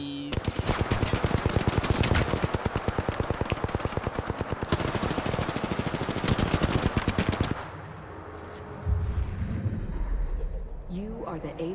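Wingman and Peacekeeper fire in Apex Legends: a loud, close stream of rapid gunshots for about seven seconds, a brief lull, then more scattered shots, with a voice talking over the action.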